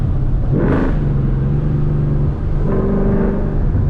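A Procharger-supercharged Ford Mustang revs loudly twice, its exhaust rumbling deep and close, swelling and dropping in short bursts.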